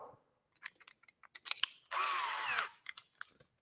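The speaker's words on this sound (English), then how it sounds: "So now let's get this bit put into the drill." A drill bit being fitted into a power drill on a woodworking bench, quiet clicks and ticks of handling, then a short close whir of the chuck spinning, followed by more small clicks.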